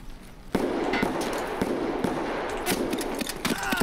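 Sharp gunshots crack out at irregular intervals in Escape from Tarkov, a multiplayer shooter match, loud and close, with brief quiet stretches and a few faster clusters near the end.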